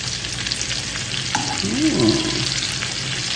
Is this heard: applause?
no